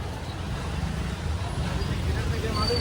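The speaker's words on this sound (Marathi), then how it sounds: "फुल ट्रॅफिक मध्ये अडकलोय." Heavy road traffic stands jammed in continuous rain in Kalyan, a dense, steady rumble of engines and wet road noise close by, with muffled voices underneath.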